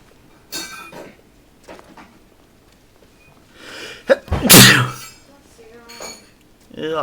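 One loud, close sneeze from a person bursts out in the middle, with scattered clinks and small noises and a bit of talk around it.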